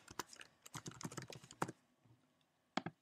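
Password being typed on a computer keyboard: quick bursts of close, crisp key clicks with a brief pause before a final few taps.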